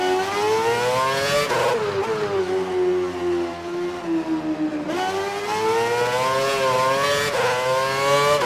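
Formula 1 car engine in the F1 2012 racing game, a loud, close high-pitched whine that rises and falls through several gear changes, with a brief lull before revving back up strongly, no voices.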